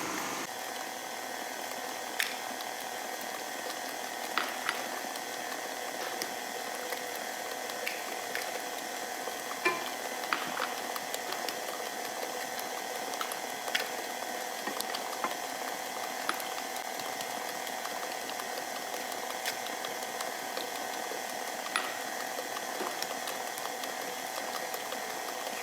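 An electric mixer beats bananas and eggs in a bowl, a steady whirring hum running throughout with occasional faint clicks and knocks from the beaters against the bowl, close and continuous.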